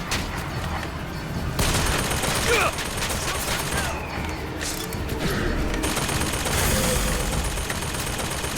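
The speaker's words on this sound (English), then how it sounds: "Hey, don't shoot at me." Gunfire in Bioshock Infinite played in VR: loud, sustained bursts of rapid shots and booms fill the whole stretch, with faint voices mixed underneath.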